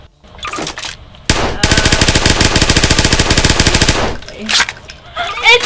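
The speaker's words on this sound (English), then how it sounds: "It's a gun!" Automatic gunfire rattles in a haunted video game: a loud, rapid, sustained burst of evenly spaced shots lasting a few seconds, framed by softer thumps and clatter.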